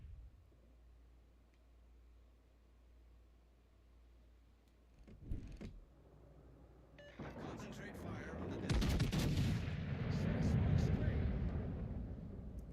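Naval guns fire in a video game, quiet at first, then a sharp shot and a long rumbling barrage of shell fire that swells loud in the later part, with someone talking over it.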